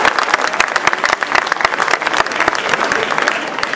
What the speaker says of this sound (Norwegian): Ja, det forteller en applaus til oss da,